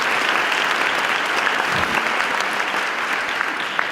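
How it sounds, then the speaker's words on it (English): A school honors ceremony audience giving a round of applause, dense and steady clapping at an even level throughout, with no voices standing out. "could you give the Neuqua Valley Equity Committee for their work a big round of applause?"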